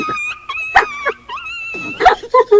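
A dog whimpers and whines in high, wavering cries that rise and fall, loud and close, with a few short yelps breaking through.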